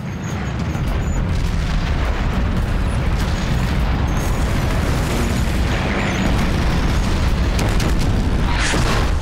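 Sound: Russian artillery barrage explosions

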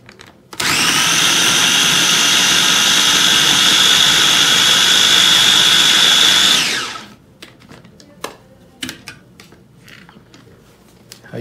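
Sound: grinding ingredients in a grinder for 4 to 5 seconds

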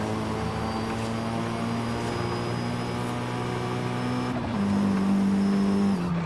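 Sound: video game car blow-off valve during gear shifts

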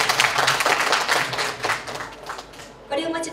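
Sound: audience applause at end of symposium

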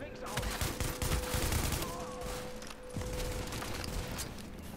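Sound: gunfire from sniper in The Division video game

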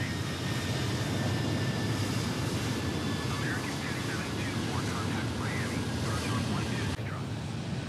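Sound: Delta Airbus A320 taking off, Microsoft Flight Simulator 2020 video game

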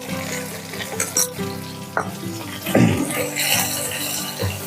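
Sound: spice paste frying and being mixed for fish curry

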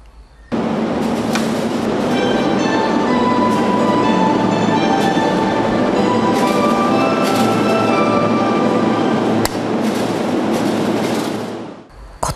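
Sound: commuter train slowly starting to move from the station

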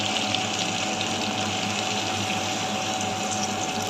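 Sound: milk being poured into cooking pot for shukto

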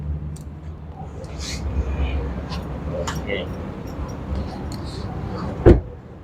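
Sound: pickup truck door closing

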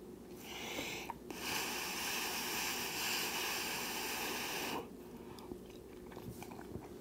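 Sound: eating food with a spoon

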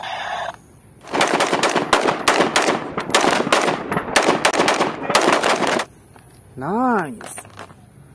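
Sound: sniper rifle gunfire from a video game

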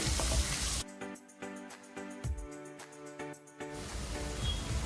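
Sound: chopped onions frying in oil with golden garlic

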